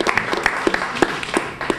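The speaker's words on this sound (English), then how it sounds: "So I just want to give them a round of applause." Brief applause from a small gathering for community service volunteers at a press conference, scattered close claps in an uneven rhythm lasting under two seconds.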